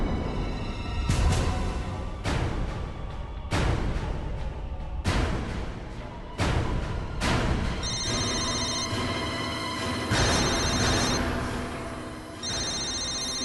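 A telephone rings over and over in a steady repeating pattern, loud and close, set against a dramatic musical score from a TV serial.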